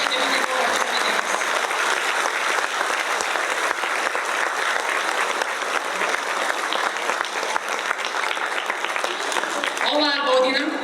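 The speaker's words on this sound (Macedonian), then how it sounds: "Ве молам еден голем аплауз за сите овие луѓе" Loud, sustained applause fills a hall at a primary school's 61st anniversary celebration in Struga, honouring the school staff, with a voice emerging right at the end.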